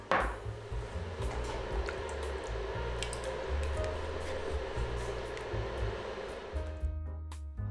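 Butter and salted water are stirred continuously in a small flat pan over low heat, giving a soft, steady scraping and faint bubbling close by before it cuts off.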